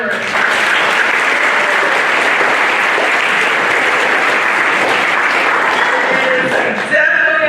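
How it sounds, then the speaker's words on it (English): Audience at a Northern Berkshire community awards evening applauding loudly and continuously after a category, dense sustained clapping that ends with a voice starting to speak. "Round of applause for that last category."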